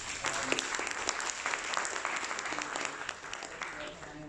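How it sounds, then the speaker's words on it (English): Applause from an audience at a London finance talk on security token exchanges, following a speaker's presentation; steady clapping from a crowd, fairly close and continuous for a few seconds, with faint voices mixed in. "Maybe a quick applause for Graham."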